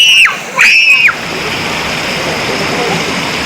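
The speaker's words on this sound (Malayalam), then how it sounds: "ഇവിടെയൊക്കെ ഇങ്ങനെ വെള്ളം നന്നായിട്ട് ഇങ്ങനെ കുത്തി ഒഴുകുന്നുണ്ട് കേട്ടോ" Water rushes steadily along the stream at Dhoni waterfalls in Palakkad, Kerala, a loud continuous roar, with two short shrill tones over it at the start.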